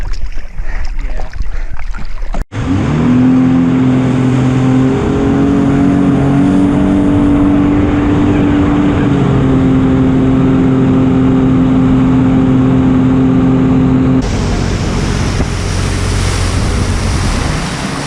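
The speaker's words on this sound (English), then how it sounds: "I'm really enjoying this seadoo RXT." A Sea-Doo RXT personal watercraft runs on open water, its engine droning loud and close with a rising whine, over constant wind and water rush, with a brief dropout early on.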